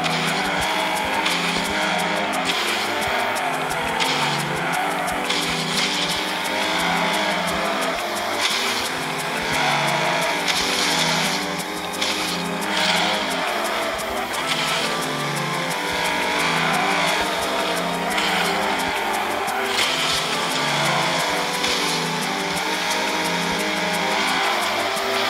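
Race car engine roars steadily with tyre squeal in the Ace Racer video game during an S License test, loud and continuous throughout with no talk over it.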